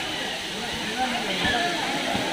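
Water falls at Courtallam waterfall with a low flow, producing a steady splashing hiss, moderately loud, with faint voices underneath.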